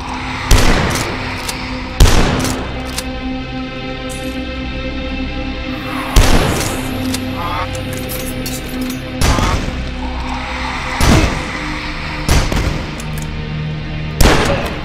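Super shotgun blasts in the retro shooter Dusk: loud, sharp booming shots at irregular intervals of a second or several, each with a short decaying tail over a steady game backdrop.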